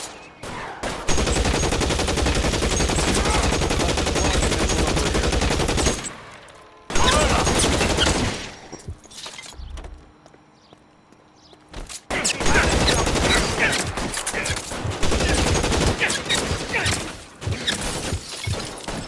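Rapid gunfire rips through a shootout in L.A. Noire's Nicholson Electroplating level, long loud bursts of automatic shots with glass shattering, broken by a brief quiet lull before another heavy volley.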